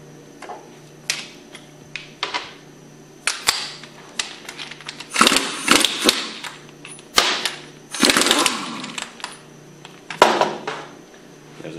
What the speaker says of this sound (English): Use your 1 1/16 socket to remove these adapters.